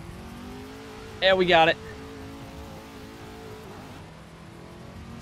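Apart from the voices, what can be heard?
semi truck drifting in a driving simulator game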